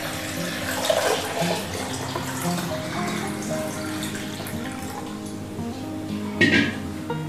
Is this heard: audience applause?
no